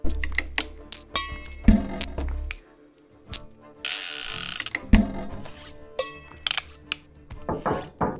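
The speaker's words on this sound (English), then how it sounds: "I bumped against the mic stand while setting up to record some of my cello stuff" A microphone stand knocked accidentally while setting up to record cello gives sharp metallic knocks, rattles and clanks, repeated in an irregular rhythmic pattern with a brief burst of noise midway.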